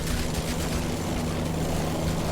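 Constant droning rotor and engine hum of a helicopter flying overhead in the zombie survival game Yet Another Zombie Survivors, steady and fairly loud with no talk.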